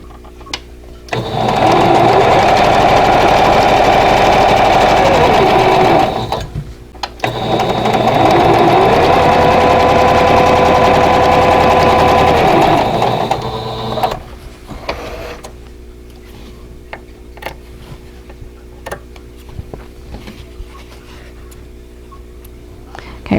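A sewing machine runs loud and close while piecing Broken Wheel vintage quilt block pieces, two long steady bursts of rapid stitching with a short pause between, then quieter clicks and handling afterward.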